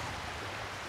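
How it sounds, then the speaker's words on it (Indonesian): Waves break continuously near a beach, a steady wash of surf that is faint and even throughout, with no voices. "aku bisa mendengar suara debur ombak"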